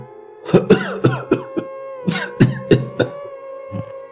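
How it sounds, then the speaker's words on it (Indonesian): A string of short, sharp coughs repeats in quick succession, close by, over a steady low hum. "tiba-tiba terdengar suara batuk dari arah sampingnya."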